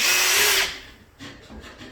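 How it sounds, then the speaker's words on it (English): A power drill bores through metal with a loud, harsh whine for under a second, then drops to a softer, lower grinding as the bit slows. "So let's start drilling."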